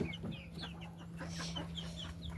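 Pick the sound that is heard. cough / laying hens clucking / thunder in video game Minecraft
laying hens clucking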